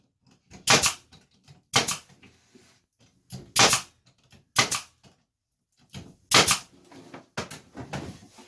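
Staple gun driving 15mm staples into the corners of a wooden picture frame held in a jig: sharp, loud snaps come one at a time, about once a second, each followed by quieter handling knocks.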